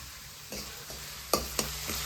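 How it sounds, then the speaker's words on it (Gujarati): Onion frying in a pot, a quiet sizzle broken by a few distinct clinks and scrapes of stirring. "ડુંગળીને હવે બળી જાય ચોઈતા સુધી"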